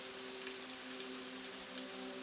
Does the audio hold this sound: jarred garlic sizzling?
no